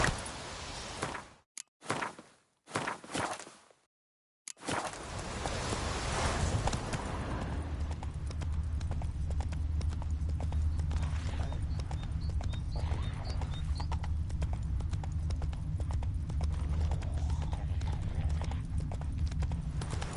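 Roach, a horse in a video game, walks with a steady run of clip-clopping hooves that goes on after a few brief bursts of sound and gaps at the start, and a neigh may rise once.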